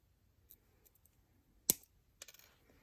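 Wire cutters snip through beading wire while making an earring: one sharp, close metallic clip stands out amid small scattered taps and handling clicks, followed by a quick burst of light rattling.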